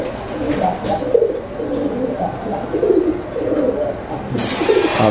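Pigeons cooing in a breeding loft, several soft overlapping coos in a steady rolling rhythm, close and fairly loud.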